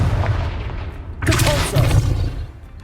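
A Confringo spell blast in Hogwarts Legacy erupts as a sudden loud broadband burst with a booming low end, crackling for about a second before tailing off into a rumbling game background.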